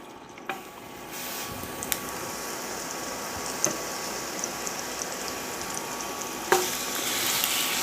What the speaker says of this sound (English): Add down our onions.